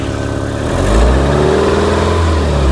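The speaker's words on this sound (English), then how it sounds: "Engine sounds pretty good." A car bought at a local auction, its engine running with a low, steady idle that rises into a stronger rev about a second in, then holds loud and close with no talk over it.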